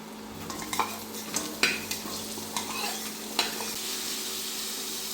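Chopped potatoes going into fried onions in a pan with mustard oil, a soft continuous sizzle with several sharp spatula scrapes and clinks against the metal, close and without speech.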